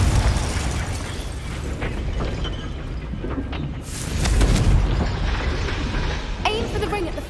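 A Confringo blasting spell bursts into a loud, rumbling explosion in the Hogwarts Legacy game, with crackling debris and game effects around it and voices talking over the scene.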